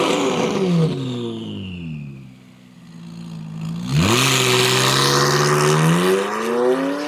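A McLaren sports car engine revs hard, pitch sweeping down into a dip and then surging back up into a loud, sustained high-revving roar, close and with no voices.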